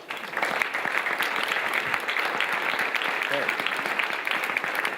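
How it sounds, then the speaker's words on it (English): Audience applause at a Future Energy Boston pitch event in 2013, following a startup presentation; steady, dense clapping fills the whole stretch at even loudness, with a few faint voices underneath. "Round of applause for Bobby."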